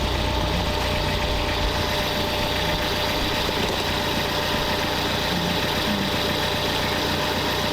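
A car with a newly installed exhaust idles steadily nearby, a constant low rumbling hum with no talk over it.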